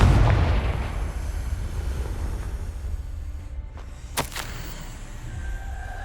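A Confringo fire-blast spell cast in the Hogwarts Legacy video game, with a loud booming burst that rolls into a long, rumbling roar, followed by a couple of sharp cracks near the end.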